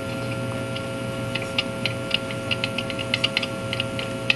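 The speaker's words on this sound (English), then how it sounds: "I hooked up my Time Tracks audio amplifier to it just so I could hear the shake" A New Haven triple-plate Westminster chime mantel clock ticks through an audio amplifier. The crisp, uneven clicks of the escapement come fast and irregularly over a steady electrical hum, close and amplified, with no talking.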